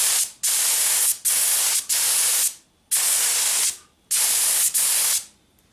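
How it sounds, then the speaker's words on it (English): Aerosol spray can spraying paint over side art on an Atari arcade cabinet, six loud close hissing bursts of about a second each separated by short gaps, no talking. "Now, I'm going to spray over the art."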